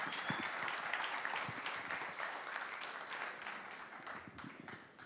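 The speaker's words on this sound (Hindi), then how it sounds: "फिर से जोरदार तालियों के साथ स्वागत करेंगे पंकज त्रिपाठी जी का।" Audience applause on stage welcoming actor Pankaj Tripathi at an event in Bihar, dense continuous clapping from a crowd that stays steady for about five seconds and eases slightly at the end, with no talk over it.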